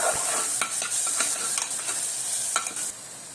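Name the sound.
spices with onion and tomato being sautéed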